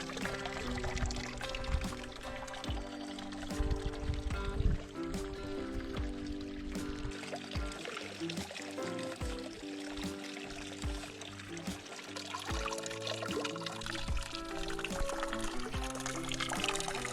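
Water flows steadily at a hot springs pool beside a creek, a continuous close pouring and splashing wash that carries on throughout with no talking.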